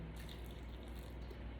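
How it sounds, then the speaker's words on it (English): Hot water from a kettle poured into a bowl of henna mix, a steady close splashing pour running unbroken from start to end at moderate volume. "I'm going to add more hot water to make it into a pudding-like consistency"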